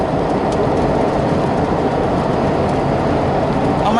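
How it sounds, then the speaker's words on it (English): Road noise from inside a vehicle driving on the I-5 highway: a loud, constant rumbling roar of tires and wind with no pauses and no talking. "the road noise is normally pretty bad on the I-5 as I travel"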